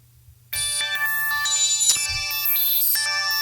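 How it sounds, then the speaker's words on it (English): Waldorf Blofeld synthesizer playing an unusual preset completely dry, a bright, steady tonal chord with shifting upper notes that enters abruptly after a short quiet lead-in and sustains loudly with no talking. "It is just the Blofeld dry."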